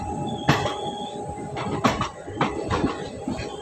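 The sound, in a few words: Howrah–Delhi–Chandigarh Express train at Chandigarh junction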